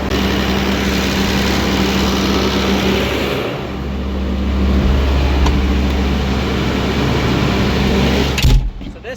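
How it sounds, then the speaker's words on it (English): Mixer tractor engine on a dairy farm idles outdoors during a blizzard, a loud, steady droning hum with a deep low tone, dipping briefly midway before running on and cutting off abruptly near the end. "we're gonna pull the mixer tractor outside"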